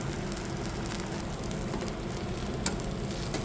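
A Marathi-style breakfast snack fries in a pan while being turned over, giving a steady, close crackling sizzle with one brief clink partway through and no voices.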